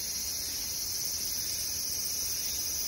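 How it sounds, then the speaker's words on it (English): A larger, colorful cicada species drones in a steady, monotonous continuous tone, unbroken throughout and moderately loud, with no other sounds. "here we can hear that larger, sort of more colorful species of cicada"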